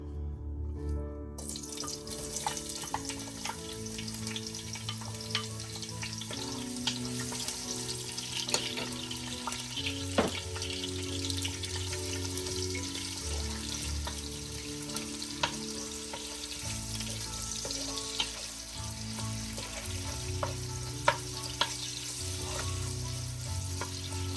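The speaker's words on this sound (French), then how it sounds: "je vais faire revenir mes oignons" Onions frying in a pan, a soft continuous sizzle with occasional stirring clicks, fairly quiet and close, with a faint hiss like running water mixed in and no voices.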